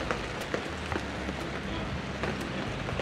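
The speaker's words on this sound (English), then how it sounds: "It's still raining." Rain falls steadily outside an RV parked after a mountain bike stage race, a soft, even patter with scattered faint drips, quiet and continuous throughout.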